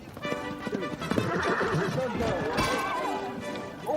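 A horse neighs and whinnies with clip-clopping hooves at a British royal event, loud and close, while a crowd chatters underneath.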